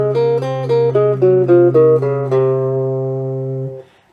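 The C Locrian scale plays as a run of eight clear, steady notes climbing over a held low drone, with the last note ringing out and fading, and no voice.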